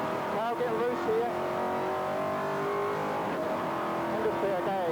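A V8 touring car engine at Teretonga circuit holding a steady loud drone with rising and falling revs as it brakes into hairpins and powers back out, with talk running over the engine throughout.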